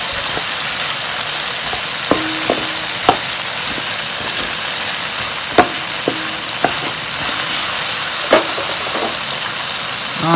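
Kailan (Chinese kale) stir-fries in a hot pan with a loud, steady hiss and crackle of oil, broken now and then by short scrapes and taps of a spatula against the pan.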